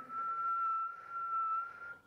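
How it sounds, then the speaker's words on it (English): A sustained breathwork whistle carried on a slow, full exhale, holding one steady tone for about two seconds with a slight dip midway, close and fairly soft with no talking. "when you will fully exhale while whistling"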